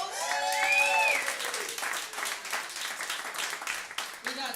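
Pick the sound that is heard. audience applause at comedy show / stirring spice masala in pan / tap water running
audience applause at comedy show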